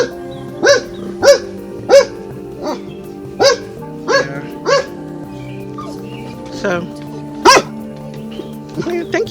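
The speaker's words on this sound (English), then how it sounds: "thank you for barking." A dog barks repeatedly in sharp, uneven bursts, some whining yips mixed in, close by, while a person speaks briefly.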